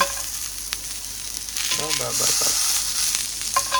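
Asparagus frying in a pan over a medium flame, a steady close sizzle with faint stirring and a brief voice partway through.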